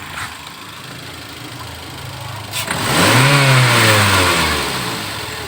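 A 2011 Toyota Avanza engine, heard at the front with the AC off, revs up sharply, its pitch climbing then holding loud and steady before easing off, close by with no talking.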